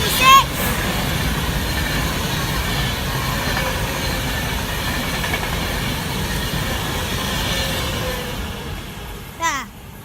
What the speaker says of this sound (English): Passing through now is a Pendolino.